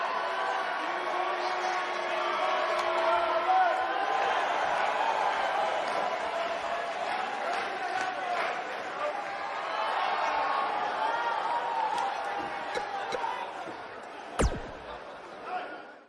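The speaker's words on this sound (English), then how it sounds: "I think this Nashville crowd is in awe over witnessing such an incredible performance" Arena crowd in WWE 2K19 holding a steady, broad murmur of cheering and chatter for the whole stretch, with a sharp impact-like crack near the end.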